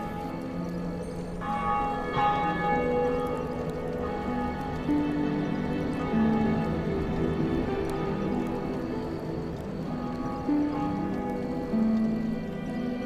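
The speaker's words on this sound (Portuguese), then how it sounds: "o primeiro sino começa a badalar com uma potência que ecoa por toda a Lordaeron" A large bell tolls repeatedly with a deep, resonant ring that lingers, the strikes spaced steadily over a soft, washy background.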